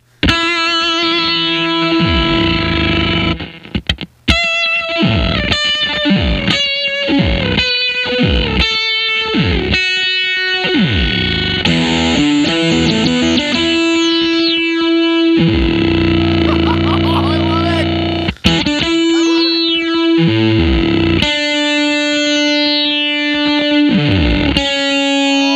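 A distorted electric guitar riff played through a Subdecay Harmonic Antagonizer effects pedal, loud and continuous, with choppy staccato chords early on giving way to sustained, harmonically rich, sweeping tones.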